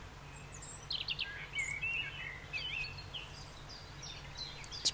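Birdsong closes an album. Scattered high chirps and short trilling calls come and go over a quiet background hum.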